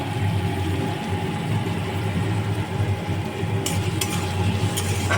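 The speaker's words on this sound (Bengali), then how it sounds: "এটা যতক্ষণ না নরম হচ্ছে ততক্ষণ অবধি এরকমভাবে নাড়তে হবে।" Ingredients get stirred in a frying pan while cooking prawns, a soft steady sizzle with a low background hum and a few light metallic clinks of the utensil near the end, no voices.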